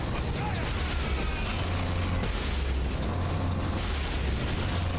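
Heavy weapon fire from a lascannon in the Space Marine video game, with booming bursts and mechanical clatter over a dense, continuous battle din.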